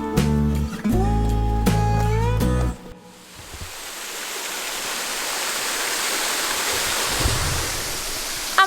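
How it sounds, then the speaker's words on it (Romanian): A waterfall on a hiking trail in Madeira roars steadily, a dense continuous rush close by. A brief burst of music comes before it. "Am ajuns și la prima cascadă de pe traseu."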